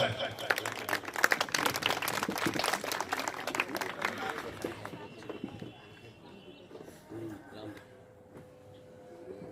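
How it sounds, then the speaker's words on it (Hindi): A crowd claps in a dense burst of applause that gradually thins and fades toward the end, with some talking mixed in. "सभी का हाथ उठना चाहिए और सभी की तालियां मिलना चाहिए"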